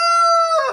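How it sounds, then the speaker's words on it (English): A rooster crows loud and close in one sustained, harmonically rich call that holds steady before breaking into a rougher, falling end. "roosters don't crow just in the morning"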